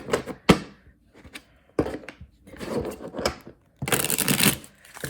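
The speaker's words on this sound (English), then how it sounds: "So clearly we're just shuffling the deck a million times." A tarot deck is shuffled by hand in several bursts, giving crisp riffling and papery flicks with brief pauses between them and a louder final run near the end.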